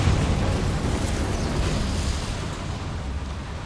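An Incendio fire spell cast in the video game Hogwarts Legacy, a loud roaring whoosh of flame like a sustained burst that stays strong before easing slightly toward the end.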